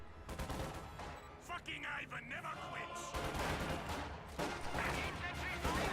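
Rapid rifle and machine-gun fire crackles in a video game battle as Panzer Grenadiers trade shots with conscripts at range, with dense overlapping bursts and booms that stay steady and loud throughout.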